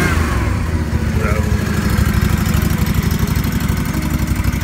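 Lawn care engine running steadily after a cold start, loud and close with a continuous throbbing idle rumble and no pauses.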